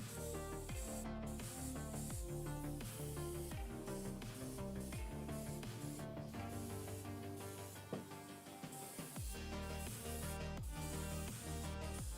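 Airbrush spray hissing steadily and faintly while paint goes onto a Carrack fleet drop lander model, with small mechanical clicks and no voices.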